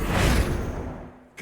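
Casting the Bombarda spell in Hogwarts Legacy unleashes a loud, broad whooshing blast that swells at once and then fades away over about a second, ending in a brief softer thud.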